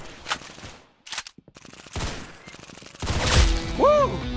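Bursts of in-game gunfire from a Roblox Arsenal shooter match, with a single loud shot followed by rapid repeated volleys and a sustained barrage toward the end, mixed with game effects.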